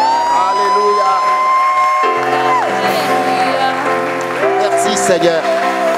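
A church congregation applauds and cheers in praise of God during a worship service, the crowd noise rising under a voice and sustained musical tones.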